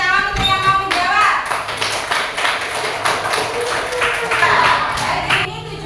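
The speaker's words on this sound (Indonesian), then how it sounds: "Beri tepuk tangan untuk yang mau menjawab." Fourth-grade pupils clap for a classmate in a Quran recitation lesson. The claps are quick, scattered and fairly close, and voices talk over them.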